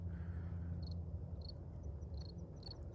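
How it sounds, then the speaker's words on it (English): Crickets chirp in short, high pulses at a steady rhythm over a low background hum, faint and somewhat distant. "The crickets just come out of nowhere."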